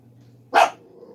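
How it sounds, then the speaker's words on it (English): A single sharp dog bark, close and loud, breaking through a quiet background hum. "I don't know what the heck she's barking at."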